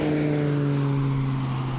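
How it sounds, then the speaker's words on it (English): Fire Boss mini water bomber airplane engine: a steady propeller drone with a strong low hum, loud and continuous throughout, with no talking. "They call this airplane a fire boss."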